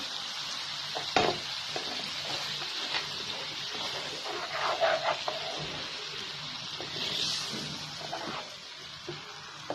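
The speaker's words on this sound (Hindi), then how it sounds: "हल्का सा मसाला भूनूंगी।" Masala spices sizzle and fry in oil in a pan for a muttar paneer dish, a steady close hiss broken by a few scraping stirs, with no talking.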